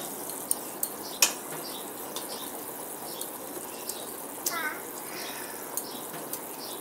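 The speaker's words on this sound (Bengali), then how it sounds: "তো ফুটে উঠেছে। এবার আগে থেকে ভেজে রাখা মাছগুলো আমি দিয়ে দিব।" Pre-fried fish pieces go into a boiling curry with bottle gourd, a soft bubbling simmer broken by scattered metallic clinks of a utensil against the pot, one sharper clack early on.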